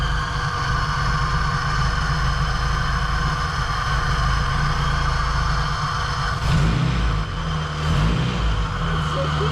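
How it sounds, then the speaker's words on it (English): Honda Civic EG track car engine idling steadily around 800 rpm with an open Skunk2 throttle body and no intake fitted, a continuous close, loud hum with airy suction hiss and a slight rise in roughness near the end. "the throttle body's a bit loud, there's no intake on it, so you can hear it sucking in air"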